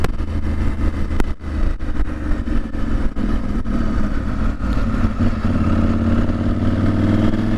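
A KTM motorcycle fitted with a decat pipe rides along, its engine rumbling loud and close with repeated rev changes and brief throttle blips, backed by constant road and wind noise.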